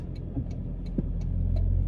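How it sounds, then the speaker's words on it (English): Cars passing on a road at a one-way stop in Toronto, heard from inside a vehicle as a steady, close rumble of traffic with faint ticking on top. "A lot of cars are coming from my left side."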